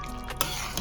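Poppy seed paste with potatoes and vegetable stalks being stirred in a pan, a brief close burst of sizzling with a couple of scraping strokes.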